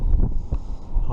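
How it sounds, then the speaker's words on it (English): Strong gusty wind buffets the microphone out on the ice during an ice fishing trip in roughly 50 mph wind, a steady low roaring rumble with brief swells through the whole short stretch. "It is super windy"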